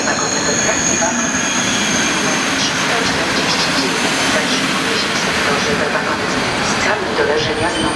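EP09-018 electric locomotive hauling the EIC 4111 Beskidy express arriving at Warszawa Wschodnia station: a steady loud rumble of rolling rail wagons with high wheel squeal throughout, nearby and continuous.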